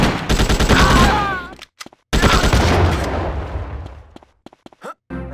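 Rapid bursts of enemy gunfire in GTA Chinatown Wars, loud and dense for about a second and a half, then returning after a short gap and fading into scattered shots.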